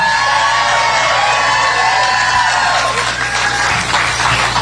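An election night crowd applauds and cheers steadily for a candidate thanking supporters, a dense, loud wash of clapping and whoops that continues without a break.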